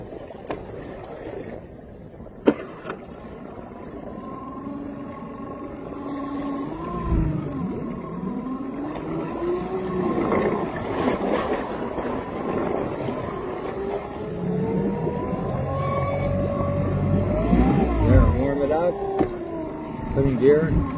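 Outboard boat motor idling and then shifted into gear, a steady engine drone with rising and falling pitch, moderately close, with a person talking over it throughout.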